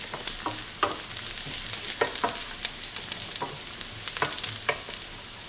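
Cut dried red chili fries in hot oil with mustard seeds and onion, a constant near sizzle broken by regular, sharp scrapes of a spoon stirring the pan.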